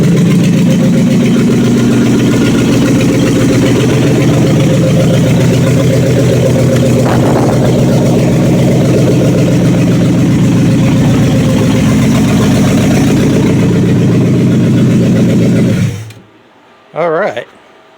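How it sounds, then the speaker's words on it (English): A rebuilt 318 V8 in a 1976 Dodge Coronet idles steadily after a cold start, a loud, close, even rumble that continues for about sixteen seconds, then cuts off abruptly, followed by a short burst of talk. "Cold start running at cold idle."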